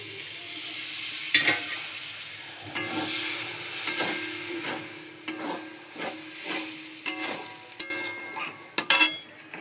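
Water splashes into a pan of sizzling egg curry masala, followed by repeated metal spatula scrapes and stirring knocks against the pan over a soft steady fry, close by with no talking.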